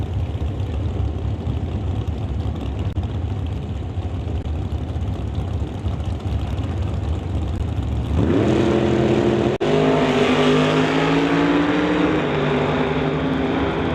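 A naturally aspirated 598 cubic inch big block Chevy drag race car roars loudly and continuously, then the engine note shifts abruptly into a higher, harmonic scream as it pulls away at a door slammer drag race.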